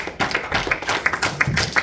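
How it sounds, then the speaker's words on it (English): A small group claps for two brothers after a camp teaching session, with sparse, uneven hand claps close by, a few sharp individual smacks standing out. "give these brothers a round of applause"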